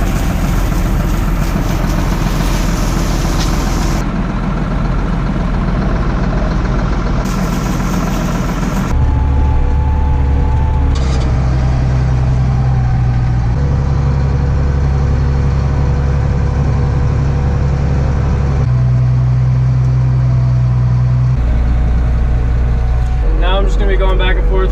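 A tractor engine runs steadily and heavily while packing corn silage in a bunker silo, a continuous low drone that shifts in pitch as it goes back and forth, with a voice talking over it.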